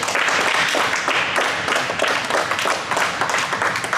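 A team claps together for a sustained stretch, a dense wash of many hands applauding at close range, steady and loud throughout with no talking.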